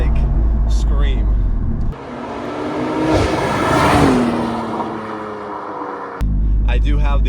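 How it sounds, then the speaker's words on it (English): A BMW M4 with a stock sport exhaust revs up and falls back in one long, loud rise and fall lasting a few seconds, close by, with people talking just before and after. "when I hear just a kind of quote-unquote stock sport exhaust on a BMW"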